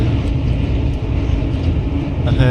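Steady low rumble and rattle of a train rolling along the tracks, heard from aboard, continuous and close, with a brief metallic squeal near the end.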